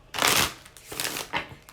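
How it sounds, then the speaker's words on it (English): A deck of tarot cards is shuffled by hand in three quick riffling bursts, crisp and close, with brief pauses between them. "Sorry, I had to shuffle out my deck, Virgo."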